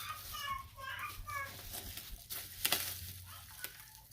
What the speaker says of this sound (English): I'm so sorry about the happy baby in the background.